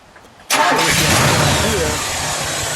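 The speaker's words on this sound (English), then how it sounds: "We'll let it idle. We'll give it a little rev." A 1966 Buick Wildcat GS with a 425 cubic-inch V8 fires up after a brief quiet, settling into a loud, deep idle with a light rev, close by.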